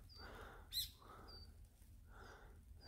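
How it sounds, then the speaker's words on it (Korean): A bird calling in a mountain forest, giving three faint, thin, high chirps spaced about a second apart over quiet background hiss. "새가 바이러스라고 그러네요."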